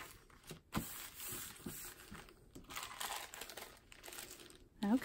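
A plastic bag being handled while adhesive is applied, close crinkling and crumpling in irregular bursts with quiet rustles between, ending in a louder crunch.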